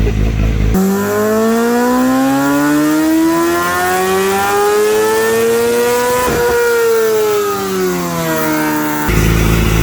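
A Honda CBR1000RRR motorcycle on a dyno revs in one long, loud pull, its engine tone climbing steadily and then falling off near the end.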